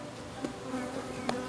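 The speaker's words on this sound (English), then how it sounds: "the bee nucleus that we purchased arrived on a cold, wet coastal day." Honeybees from a purchased nucleus colony buzz close by on a cold, wet coastal day, a faint steady hum with a couple of brief louder passes.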